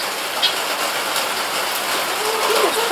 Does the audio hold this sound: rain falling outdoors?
yes